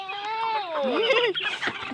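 Chickens squabble and cluck as they jostle to peck at chopped banana stem, their close, loud calls rising and sliding in pitch and overlapping with one another, with no talking.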